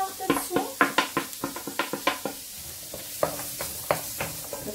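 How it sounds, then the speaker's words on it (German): Carrots and garlic sautéing in a pan while being stirred: a quick run of scraping and clinking utensil strokes over a soft, continuous sizzle, close up. "Die Möhren schwenke ich an"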